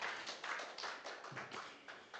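A church congregation claps for God in a rhythmic burst of roughly a dozen distinct, fairly faint claps that come and go in uneven waves, with no talk over them.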